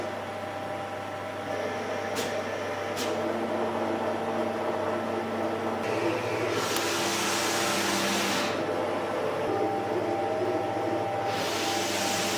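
A Roland VG2-640 printer-cutter runs a print job for a reverse-mounted glass decal sticker, a steady mechanical hum with a background hiss that swells at intervals, plus a couple of sharp clicks near the start.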